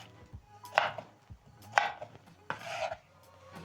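A knife slices slippery green bananas into fries on a cutting board, giving three distinct close chopping strokes with soft scraping between them, fairly quiet and with no talk.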